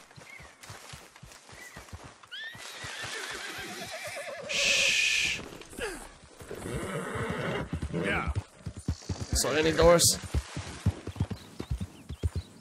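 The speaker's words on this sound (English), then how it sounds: "Oh, that looks like the Driscoll's horses that ran off." Horses in the Red Dead Redemption 2 video game neigh and whinny loudly over clopping hooves, several shrill calls rising and falling, while someone talks over them.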